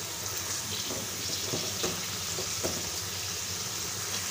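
Chicken pieces drop into hot spiced oil in a pan, setting off a loud, steady close sizzle with a few sharp bursts and stirring scrapes as the meat hits the oil, no voices.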